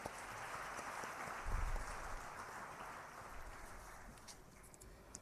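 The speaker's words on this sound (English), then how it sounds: "can we have one big round of applause once again to Inshaf and his team" Audience applause at a CA students' conference for Inshaf and his team: a steady, moderate wash of clapping from a large hall crowd, sustained for several seconds without talk.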